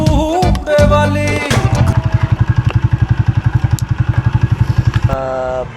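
Motorcycle pulling to a stop nearby: a brief rev, then a loud, rapid thumping idle that carries on steadily, with a voice briefly at the start and end.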